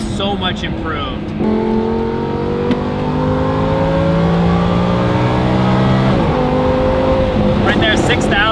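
Lamborghini Huracan LP610-4 on factory catalytic converters accelerating through the revs, a steady rising high-pitched engine howl after a brief idle burble, then a shift and renewed climb, loud and close.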